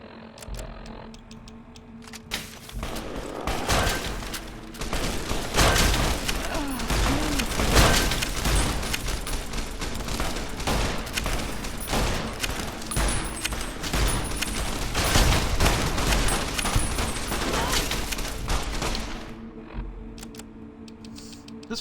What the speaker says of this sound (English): They are shooting the shit out